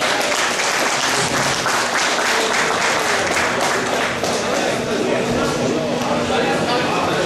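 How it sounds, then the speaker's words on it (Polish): Loud, sustained applause from a crowd, dense clapping that continues steadily throughout without a break. "bardzo serdecznie brawa."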